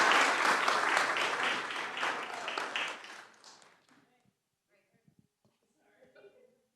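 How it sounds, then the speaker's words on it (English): A public board of commissioners meeting audience gives a round of applause for a volunteer, dense clapping for about three seconds that thins and fades out, followed by near silence with faint scattered sounds. "And another hand of applause for him"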